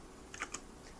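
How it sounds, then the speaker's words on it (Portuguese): A single key press on a computer keyboard, the up arrow, gives a couple of soft, close clicks in an otherwise quiet room. "Seta para cima no teclado."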